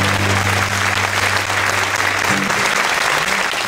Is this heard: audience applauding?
yes